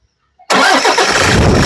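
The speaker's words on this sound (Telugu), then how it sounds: "ఒకసారి ఇంజన్ స్టార్ట్ చేయి" A 2015 Toyota Fortuner with a 3.0 engine cranks and catches on the first try after a short silence, then settles into a loud, steady diesel-like idle close by.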